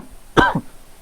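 A single short, close cough, abrupt and sharp, with a quieter follow-on burst, against a faint quiet room background.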